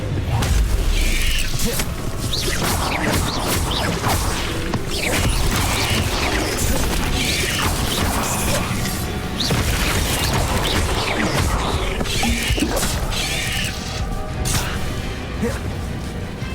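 Bombarda blasting spells go off in Hogwarts Legacy, several heavy booms and crashes with clattering debris over a constant dense game soundscape, loud and spread across the whole stretch.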